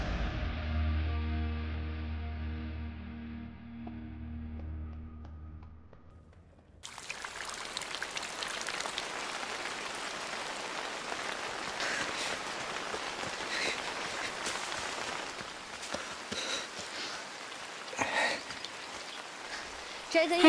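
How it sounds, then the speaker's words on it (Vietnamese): Heavy rain pours down with a dense, steady hiss and patter after a low musical passage fades out, continuing alone at moderate level for over thirteen seconds. "Mưa to vậy đừng ngây người đã nữa."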